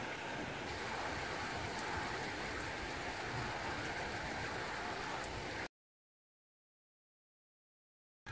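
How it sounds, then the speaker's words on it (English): Heavy rain pours steadily outdoors, a dense close hiss of drops hitting surfaces for about six seconds before cutting to silence. "It is pouring with rain."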